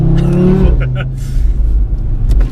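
A loud 2018 Audi RS3 with 510 BHP revs hard for a moment, then drops to a deep, rumbling idle close by.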